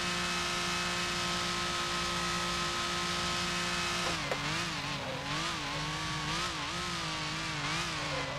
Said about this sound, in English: nice engine sound from the Maserati